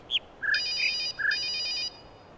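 A synthetic phone ringtone in the video game The Witness plays in two electronic bursts, preceded by short chirpy tones, clear and fairly close with nothing else around it.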